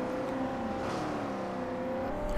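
Chevrolet race cars, a Cobalt among Corvettes and a Camaro, roar together on a track in Forza Motorsport 4, a steady, dense engine drone that holds for a few seconds with no talk.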